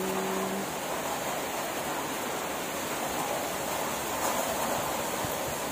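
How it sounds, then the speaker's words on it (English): Rain falling steadily in Malaysia under a dark sky, a continuous broadband hiss like a downpour, with a faint brief voice at the start. "It's raining na po."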